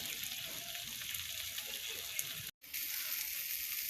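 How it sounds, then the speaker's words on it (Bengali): Rice fries in oil with salt and turmeric in a pan, a soft, even sizzle with light stirring, quiet and close, broken by a short gap of silence midway. "এখন চালটা লবণ হলুদ দিয়ে ভালো করে ভাজবো"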